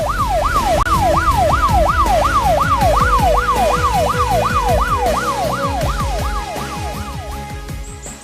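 A police vehicle siren wails loud and close in a fast, steady up-and-down cycle, repeating without a break and easing slightly toward the end as the vehicle rushes to a scene at night.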